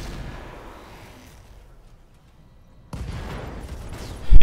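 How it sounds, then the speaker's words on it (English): Mech weapons fire in the Roguetech mod of the BattleTech video game, a heavy rumbling barrage followed by a lull, then another volley and a loud booming impact at the end. "we are going to shoot for the head and we're going to fire"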